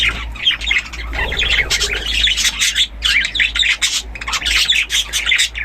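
Pet birds on a farm chirp and squawk in a busy, overlapping chorus of sharp, bright calls close by, rising and falling without pause and with no talk over them.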